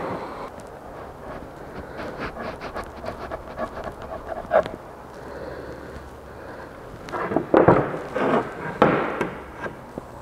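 Rasping strokes of wood being cut off while building a coat rack, irregular and moderately close, growing louder and more rhythmic toward the end.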